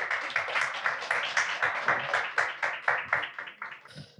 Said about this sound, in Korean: 우리 손명진 목사님 나오실 때 박수로 크게 환영해